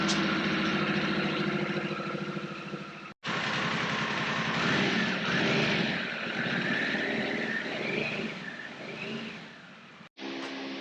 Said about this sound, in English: We're going to fire it up, let it run for 5 minutes, and we'll check the oil.